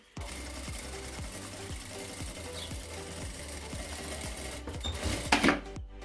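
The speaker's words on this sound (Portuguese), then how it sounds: "vou passar um pesponto aqui, ó, puxando bem esse tecido pra baixo" A sewing machine runs a topstitch along fabric, needle thumping in a fast, even rhythm at close range, ending with a brief rattle as the run stops.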